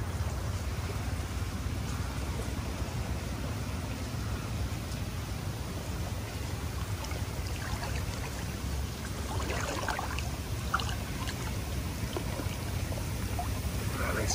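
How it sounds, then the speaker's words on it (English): Jacuzzi jets at a pool villa on Krabey Island, Cambodia, blow and bubble as a steady broadband rush of churning water, constant and fairly close throughout with no pauses. "Nice jacuzzi blowing."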